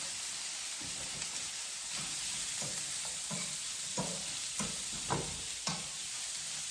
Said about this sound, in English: I'll just go ahead put those beef sausage in there.